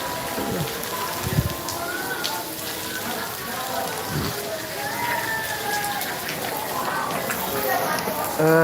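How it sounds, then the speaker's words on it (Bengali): Heavy rain pours steadily on a surface in Belgachhi, Chuadanga, a dense continuous patter with a couple of dull thumps, while people talk faintly in the background. "প্রচুর বৃষ্টি হচ্ছে আলহামদুলিল্লাহ"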